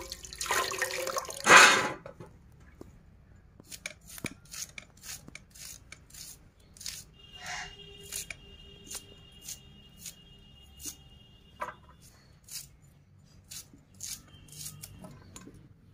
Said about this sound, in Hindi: प्याज को काट लेते हैं